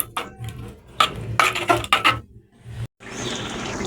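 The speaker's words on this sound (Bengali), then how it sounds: "এখন আমি এই মশলাগুলোকে ভালোভাবে কষিয়ে নেব।" Spices cooked down with sour yogurt for a broiler chicken white bhuna are stirred in a pan, giving irregular bursts of metal spatula scraping and clinking against the pan, close by, with a brief dead gap near the end.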